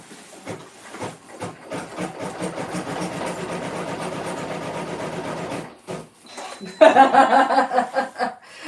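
A sewing machine stitches around a corner of fabric in rapid rattling bursts, with short pauses between runs, then a louder faster stretch near the end, all close by without talk.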